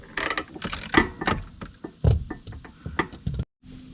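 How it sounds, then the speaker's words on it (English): Ratchet fitted with long extensions loosening the intercooler clamp on a 2021 Can-Am X3, giving a run of close, uneven mechanical clicks and metallic clatter that ends in a brief silence. "this is where the ratchet comes in handy in the extensions"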